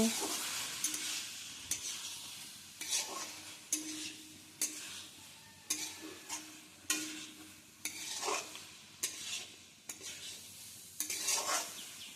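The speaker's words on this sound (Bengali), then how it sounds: "সয়াবিনের সাথে আলু আর মশলাটাকে খুব ভালো মতো কষিয়ে নেব" A spoon stirs fried soybeans with potatoes and spices in a pan, scraping at a steady, repeated rhythm over a soft, continuous sizzle, close and clear with no voices.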